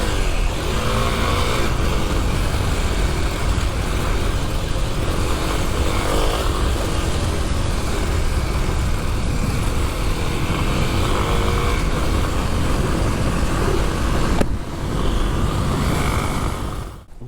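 A Kawasaki KLX300 dual sport motorcycle rides along with a steady, continuous engine drone and wind noise throughout, the pitch holding fairly even, then briefly shifting near the end before it fades.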